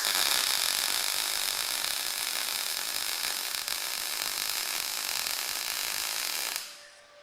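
A MIG welder lays a bead on steel with a loud, steady, close hiss and crackle that runs unbroken for several seconds, then stops abruptly near the end.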